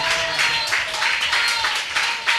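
A church congregation clapping hands in praise, a steady bright wash of many hands with rhythmic pulses, fairly loud and close, with a voice faintly underneath.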